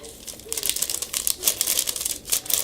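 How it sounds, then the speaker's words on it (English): A plastic bag is cut apart close up, giving a steady run of crisp crinkling and slicing rustles that swell and fade in short bursts, with no talking. "So what I do is I take the bag and I cut it"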